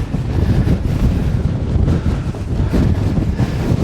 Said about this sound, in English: It's already incredibly windy